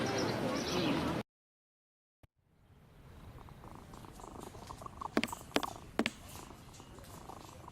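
Soft, steady purring of cats in a Victorian pet shop within a Sherlock Holmes game, rising after a brief silence, with a few short louder sounds on top.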